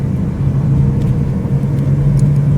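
A Chevrolet Prisma driven with its check-engine light on, a steady low engine hum and road rumble heard from inside the cabin, loud and continuous, no talk.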